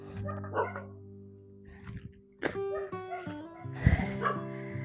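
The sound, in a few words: dog barking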